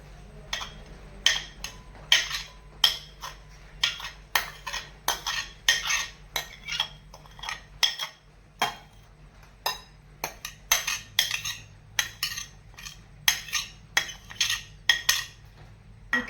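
A spoon clinks and scrapes rhythmically against a bowl while three eggs are mixed with vegetables and spices for cheese bread, a close, steady beating that continues throughout.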